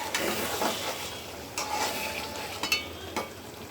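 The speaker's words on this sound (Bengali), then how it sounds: "এটা একটু নাড়া দিয়ে দিই" Dal being stirred in a cooking pot: soft scraping strokes come in several irregular bursts over a steady low sizzle, close and fairly quiet, with no voices.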